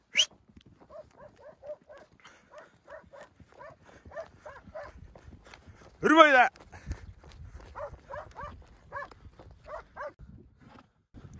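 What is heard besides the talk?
German shepherd dog herding sheep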